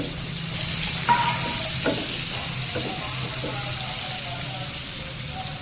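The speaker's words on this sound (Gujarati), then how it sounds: "હવે પહેલા ડુંગળી એડ કરી દેવાની." Onion frying in a pan, a steady sizzle with a few brief stirring knocks near the start, fairly close and even in level.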